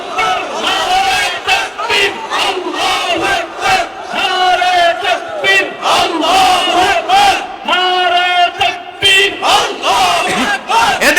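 A large crowd roars a rhythmic Islamic battle cry at an outdoor sermon gathering in Bangladesh, many voices chanting loudly together in repeated surges with brief pauses between the shouts.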